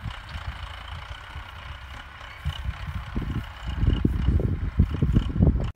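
A tractor engine runs nearby during onion planting on a farm plot, a low rumbling idle that grows louder and rougher toward the end, with no talk over it.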